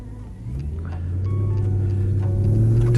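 Low rumbling exhaust of a BMW E92 M3 Competition Pack on wet roads, heard from the cabin with the window cracked, a deep steady drone that builds gradually in loudness, with no voices.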